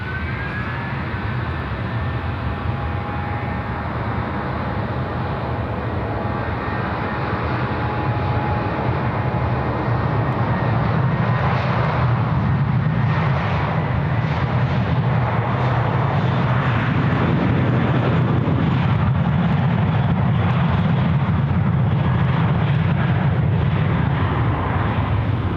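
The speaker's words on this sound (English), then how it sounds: "321 departing to Brisbane," Airbus A321 airliner taking off from runway 16 right at Sydney bound for Brisbane, a loud, sustained jet roar that swells and rumbles across the whole span, heard at a distance from a plane-spotting spot.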